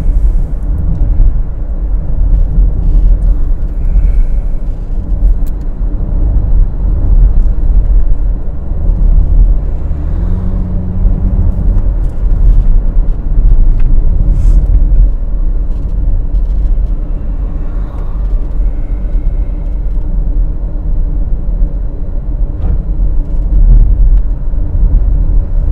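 A seven-speed automatic car driven in manual mode hums along with a steady low engine and road rumble, continuous and close throughout, no voices.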